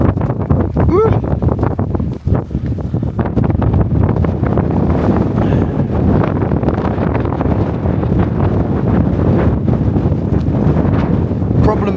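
Strong wind batters a Firemaple camping shelter on wild, exposed Cheviot ground, a loud continuous roar and buffeting rumble against the fabric with constant gusting and no pause.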